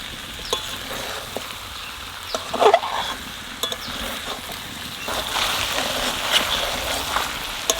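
Chicken with special garam masala spices sizzles and fries steadily in a hot pan, with occasional scraping and stirring clicks from a spatula.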